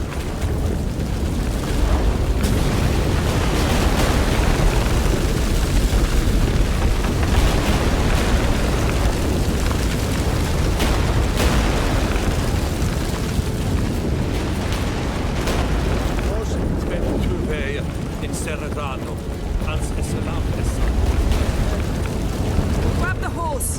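A dense, continuous earthquake rumble from The Witcher 3 roars loudly throughout, a broad crackling, booming wall of noise with intermittent bursts, and game voices are mixed in beneath it.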